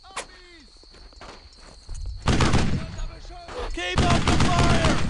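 Gunfire in the World War II shooter Brothers in Arms: Earned in Blood, with dense loud bursts of shots and a sharp crack at the start, under scattered shouted voices and a steady insect-like background hum.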